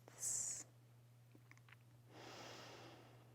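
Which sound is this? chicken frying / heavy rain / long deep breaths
long deep breaths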